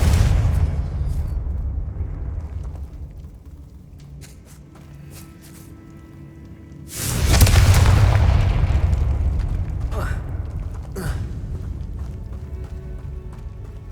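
A Confringo blasting spell fires in Hogwarts Legacy: after quieter footsteps and rumble, a loud, deep explosive boom erupts and rolls on with a sustained crackling tail, followed by a few lighter impacts.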